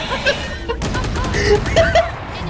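Gunfire in the tactical shooter Valorant, a burst of shots and impacts under game effects, with a player talking over it.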